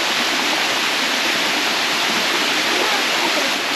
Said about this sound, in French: La cascade de Gembleng.